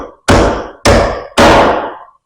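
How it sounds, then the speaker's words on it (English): Three loud, separate pounding thunks come from a homemade UHMW plastic tool being struck to seat a part on the shaft of a Sundstrand M35 piston motor, with a fourth blow starting at the end. "I pound on this and knock it down"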